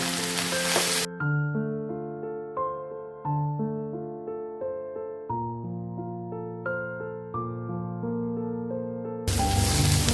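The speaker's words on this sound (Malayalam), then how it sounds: "പാവക്ക ഇട്ട് കൊടുക്കാം. നല്ലോണം ഒന്ന് വഴറ്റിയെടുക്കാം." Drained bitter gourd hits hot coconut oil with a loud, hissing sizzle that briefly opens and closes the moment, while a stretch of melodic instrumental music fills the space between.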